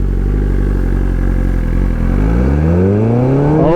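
BMW S1000RR motorcycle pulling away hard from a stop, its loud, close engine note rising steadily in pitch as revs climb, with a brief dip near the midpoint before the sharp climb.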